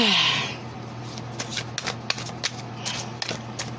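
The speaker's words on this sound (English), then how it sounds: "I'm going to pull 3 cards." Tarot cards being shuffled and pulled from a deck, a riffling burst at first, then a run of soft, close card slaps and flicks at uneven intervals.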